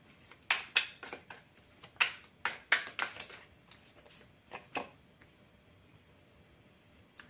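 Oracle cards being shuffled by hand, a run of crisp riffling bursts and slaps, close and fairly faint, tapering off into quiet near the end.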